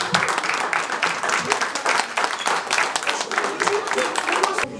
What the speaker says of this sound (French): J'aimerais que vous applaudissiez toute l'équipe.